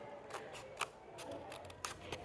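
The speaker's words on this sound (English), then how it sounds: "So you can see just snipping away the different letters like that." Quiet, crisp scissor snips cutting letters out of paper for a stencil, a series of short irregular clicks and rustles close by, with no talking.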